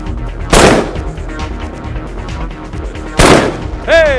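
A Ruger Mini 14 rifle fires two sharp, loud shots about three seconds apart, each cracking and then echoing away, with a brief ringing metallic ping after the second.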